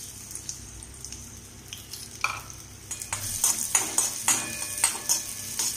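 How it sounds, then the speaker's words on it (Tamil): Ginger, garlic and green chilli hitting hot oil for a veg frankie, with a steady sizzle and repeated sharp scrapes and clinks of stirring that grow louder toward the end; no voices. "நல்லா ஹீட் ஆனதுக்கப்புறம் இந்த இஞ்சி, பூண்டு, பச்சை மிளகாய் இதை வந்து இதில் ஆட் பண்ணிடணும்."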